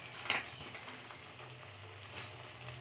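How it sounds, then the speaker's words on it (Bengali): Chili, turmeric and cumin fry softly in oil in a pan for an eggplant dish, a faint, steady sizzle with a small clink near the start. "এটা ভালো করে কষিয়ে নেব"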